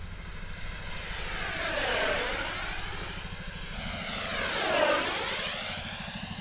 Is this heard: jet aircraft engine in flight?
yes